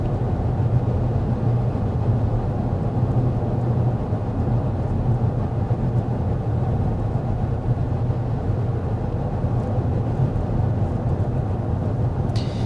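Steady low road and wind noise inside a 2024 Lincoln Nautilus luxury SUV cruising at 55 mph with the fan on its lowest setting, a constant even rumble with no talk.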